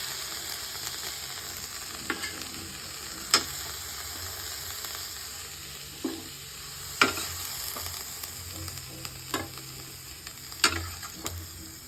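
Cauliflower fries in a pan of oil, a continuous moderate sizzle with occasional sharp clicks of a spatula stirring and scraping at irregular intervals, no voices.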